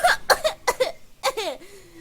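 A coughing fit, several harsh, close coughs in quick bursts, followed by a strained, wheezy breath as it trails off.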